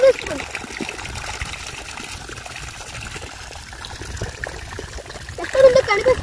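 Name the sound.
irrigation water flowing from drip line on sugarcane farm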